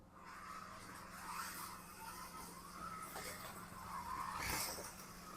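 A remote-control Revo Porsche car drives on a track, its small motor whining and tires skidding. The sound rises and falls as the car moves around nearby, and a sharper burst comes near the end.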